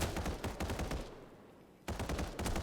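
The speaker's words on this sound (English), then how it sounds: "Premium hears the gunshots, sees Cosma off in the distance" Rapid gunfire in the battle royale video game FF7FS, with dense bursts of shots at the start and again toward the end separated by a quieter gap, heard alone without talk.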